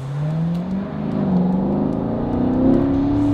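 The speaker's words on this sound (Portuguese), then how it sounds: "Vamos botar no modo esporte aqui. Vamos dar uma puxada no Corvetão." A Chevrolet Corvette in sport mode accelerates hard, its engine note climbing steadily and growing louder in a continuous, close, powerful roar with no talking.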